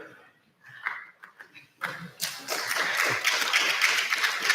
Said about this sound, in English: that's a round of applause for the guess